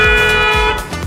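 A loud, steady car horn on a Ford Ranger, a newly fitted horn, blares continuously for about a second, a rich buzzy tone close to the microphone.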